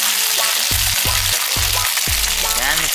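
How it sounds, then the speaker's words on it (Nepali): Eggs fry in a pan with a loud, steady sizzle, broken by a few short bursts of crackling and spattering, close by and with no voices. "अनि हामी चाहिँ अन्डा फ्राई गर्दैछौँ।"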